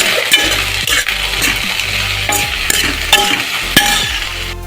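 Okra frying in a pan, stirred with a spoon: loud, close sizzling broken by repeated sharp scrapes and clinks of the spoon against the pan, with no talking.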